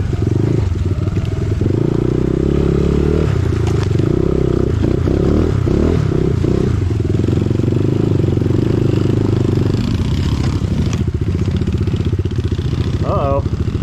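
Enduro motorcycles ride through the rain, the engines droning loudly and shifting in pitch as they rev, with clattering and scraping of the bikes over the ground and voices breaking in now and then.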